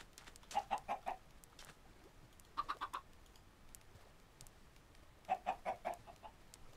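A Minecraft chicken clucking in three quick bursts of four or five short clucks each, spaced a couple of seconds apart over quiet ambient background.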